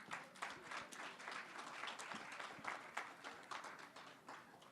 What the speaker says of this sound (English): Can you give the team the round of applause?